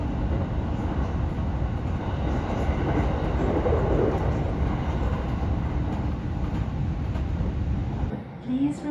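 A local train rolls toward Tajimi Station in Gifu Prefecture with a steady, loud interior rumble and rattle, continuous until it fades slightly at the end.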